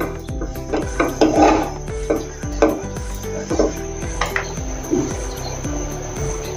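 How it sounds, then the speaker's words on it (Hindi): A pan goes down onto a stovetop with a cluster of close metallic knocks and clatters, followed by lighter scattered clinks of kitchenware during preparation of a sabudana snack. "अभी इसके ऊपर हम पैन रखेंगे"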